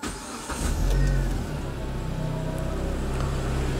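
A 2009 Proton Exora Supreme MPV with automatic transmission cranks and starts, the engine catching with a brief rev around the first second before settling into a steady, close idle, with no talking.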